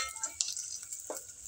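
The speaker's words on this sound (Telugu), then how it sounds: "ఈ విధంగా ఫ్రై అవుతుందండి." Dry red chillies and spices fry in a small amount of oil for a sambar tempering, a soft close sizzle with a few brief stirring scrapes and light clinks, quiet and short.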